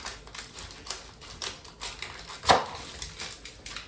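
A knife chops onion on a cutting board: sharp repeated taps at an irregular rhythm, with one louder strike standing out near the middle, close and crisp with no talking.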